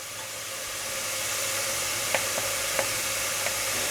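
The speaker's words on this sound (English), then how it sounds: "Now we add the garlic." Garlic drops into a sizzling frying pan for a traditional Spanish tapa, a steady broad hiss rising slightly, with a few sharp crackles and pops near the end, no talking.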